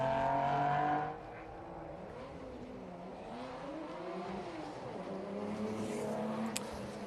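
A fuel-injected quad-cam Ferrari V12 race car drives on a track at a historic sprint meet, its engine note rising and falling through gear changes at a moderate distance after a louder opening moment.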